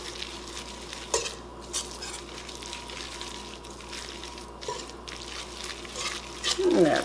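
A spoon stirs zucchini fritter batter in a bowl, giving soft, wet, irregular scraping and squelching close by, with light clinks against the bowl.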